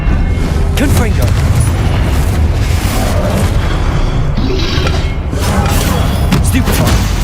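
Deep booming blasts from a Confringo fire spell in the Hogwarts Legacy video game, heavy rumbling low end with crackling bursts, loud and continuous across several seconds with a brief voice shout mixed in.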